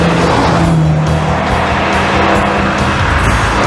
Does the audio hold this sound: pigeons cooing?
no